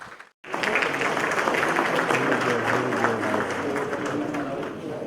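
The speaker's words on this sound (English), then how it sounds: "please join me in giving a big round of applause to the panelists" After a brief silence, a conference audience breaks into sustained applause for a panel, dense clapping with some cheering carrying on steadily.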